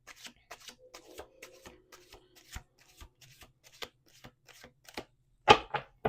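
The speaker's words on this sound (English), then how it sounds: "1 more shuffle." Tarot cards being shuffled by hand during a reading, a run of light papery riffles and taps with scattered soft clicks, quiet and close, ending in a few sharper, louder slaps.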